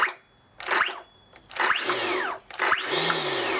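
A Makita DUC353 brushless 36V battery chainsaw spinning up with its soft start, three separate trigger pulls, each a rising electric whine that ramps up and winds down, loud and close with short gaps between.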